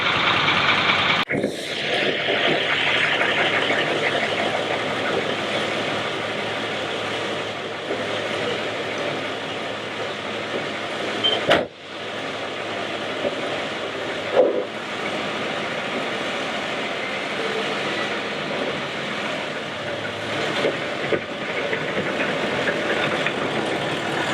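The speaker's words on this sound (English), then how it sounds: "once it's running, we can push the choke back in, and she's ready to go" A 1929 Willys-Overland Whippet 98A, unrestored, idling steadily just after starting, a continuous low engine drone with a couple of brief clunks partway through.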